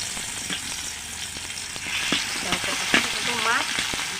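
Fish fry in hot oil in a pan for a Brahmi saag dish, giving a dense, steady sizzle with occasional light clicks and scrapes from stirring, heard up close.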